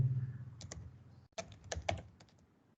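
Keys clatter on a computer keyboard in a quiet room, several quick bursts of typing with a short pause midway, close and moderately loud.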